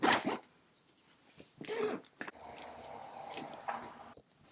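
A zipper tugged on an overpacked bag, a few short rasping zips in separate bursts, close and fairly quiet, with a brief low muffled sound between them.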